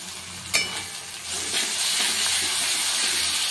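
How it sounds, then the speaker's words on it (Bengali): Ginger, garlic and green chili paste hitting fried onions in a hot pan, a sharp burst of sizzle followed by a loud, continuous hissing fry. "এই যে আদা রসুন আর কাঁচা লঙ্কা বাটা দিয়ে দিলাম"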